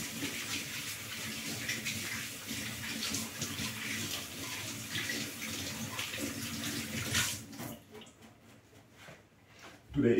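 Steady running tap water splashes over hands being washed in a kitchen while preparing cornmeal dumplings, a loud continuous wash that stops abruptly near the end, leaving quieter drips and small knocks.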